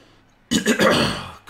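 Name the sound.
coughing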